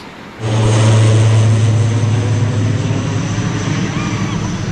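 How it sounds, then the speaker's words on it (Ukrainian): A fixed-wing airplane comes in to land at Con Dao airport on the island, its engine roar rising suddenly and loudly after a quiet start, then holding a broad, steady rumble as it passes nearby. "Будемо чекати на літаки, які сідають ось тут."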